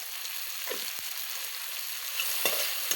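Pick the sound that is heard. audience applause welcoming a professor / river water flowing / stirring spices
stirring spices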